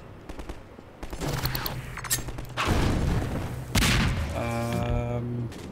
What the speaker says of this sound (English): I hear more shooting, but I have no idea where it's coming from.